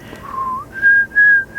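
A person whistles a song's chorus, a few clear sustained notes that step up in pitch with brief gaps between them, heard close and alone.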